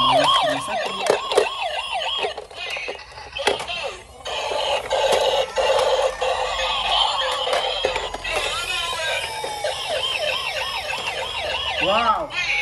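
Toy ambulance sirens wail together in loud, overlapping rising-and-falling tones, joined by other electronic toy sounds and a toy helicopter, continuous and close throughout.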